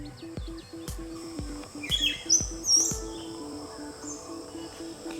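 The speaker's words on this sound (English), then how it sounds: "That bird's been talking to me for a while." A bird calls outdoors with a few faint, high chirps over a steady rhythmic ticking, insect-like, at moderate to low volume.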